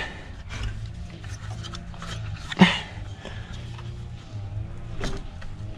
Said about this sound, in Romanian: Să vedem, să învârtim motorul.